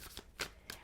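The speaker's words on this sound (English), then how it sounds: "2 more shuffles." Tarot cards are riffled in a quick shuffle, three short papery bursts in under a second, soft and close.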